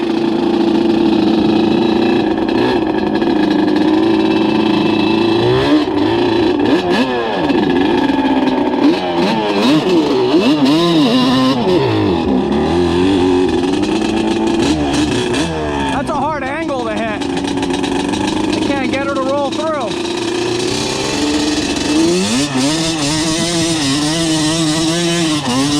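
A Banshee 350 ATV engine, a custom build, roars loud and close throughout, rising and falling as the throttle is worked, with a person talking over it.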